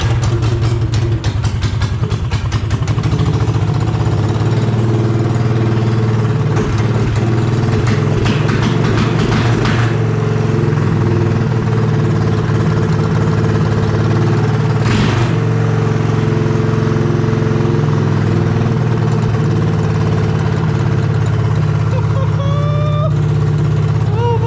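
A Predator 420 engine on a kid's ATV idles with a steady low rumble after an electric start, loud and close in a shop, with someone talking over it at times.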